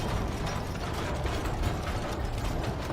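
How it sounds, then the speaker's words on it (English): Elevator machinery in the video game Dragon Age: The Veilguard, a dense steady grinding and ratcheting mechanical rumble that stays loud and unbroken for about three seconds, with no speech. "the way the elevators just immediately boom!"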